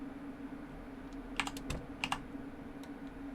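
Computer keyboard keys are pressed while playing Project Zomboid, a handful of close, crisp clicks in two short clusters over a steady low electrical hum, with no talking.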